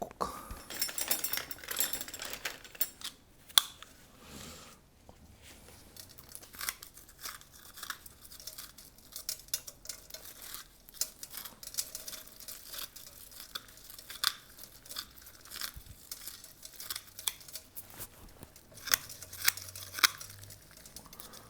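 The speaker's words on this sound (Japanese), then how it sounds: "ちょっと使い古したハサミなんかがいいですね。" Worn old scissors snip repeatedly through bonsai roots mixed with grit during winter repotting, a long run of sharp, irregular close-up clicks and crunches with no voices.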